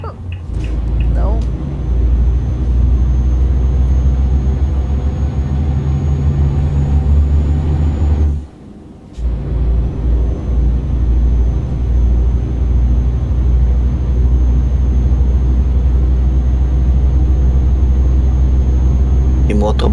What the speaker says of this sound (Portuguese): motor barulhento esse caminhão.